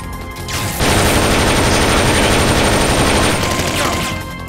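Sustained burst of automatic gunfire fired at a hostile AI unit in the video game Metal Gear Solid Peace Walker, loud and dense for about three seconds before trailing off, with game noise underneath.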